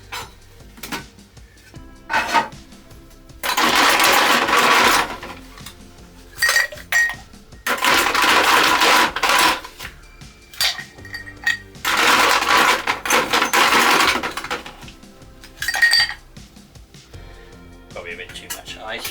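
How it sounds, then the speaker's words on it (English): Ice cubes tumble and clink into a glass for a dirty martini in several loud, rattling bursts separated by pauses. A voice is heard briefly between the pours. "Now we are going to add some ice."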